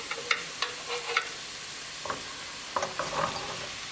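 Lamb meatballs go into a pan of hot tadka and are stirred, giving a soft, steady sizzle broken by a few light clicks and scrapes of a spoon against the pan. No one speaks.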